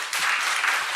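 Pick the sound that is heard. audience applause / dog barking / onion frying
audience applause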